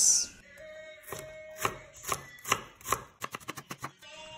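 Garlic and onion chopped on a cutting board for an omelette filling, a knife striking the board in spaced single chops that quicken into a rapid run of cuts near the end, close and clear without talk.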